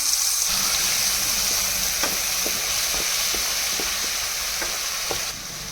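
Ground garlic chutney ingredients fry in hot oil, a steady loud sizzle with scattered crackles and light stirring taps throughout, easing slightly at the end.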